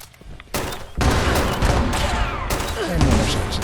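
Rapid bursts of auto grenade launcher fire in the post-apocalyptic shooter Fallout 76, a dense run of loud booming blasts and explosions packed back to back with little pause.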